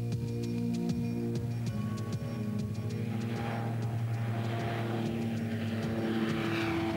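A propeller airplane drones steadily and loudly for the whole stretch, its engine tone holding even with a slight swell toward the end, no voices over it.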